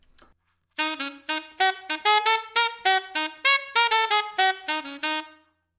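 A funky, syncopated melody of short staccato notes with rests between them, played clearly and steadily at moderate volume with no voices.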